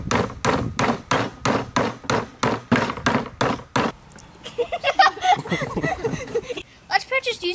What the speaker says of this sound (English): Let's practice hammering nails into our wood with our hammers.